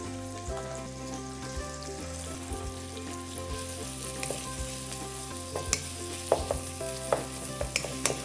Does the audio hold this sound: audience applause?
no